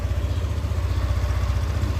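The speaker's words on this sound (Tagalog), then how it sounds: "Yan yung tunog ng makina." Rebuilt Yamaha NMAX version 2 scooter engine idling with a slightly rough tone, a steady low pulsing putter heard close up for a couple of seconds with no voices.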